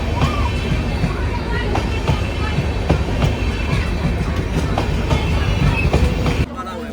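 Interior of a moving passenger train, a loud steady rumble with rhythmic clickety-clack of wheels over rail joints and faint background voices, the roar dropping slightly near the end.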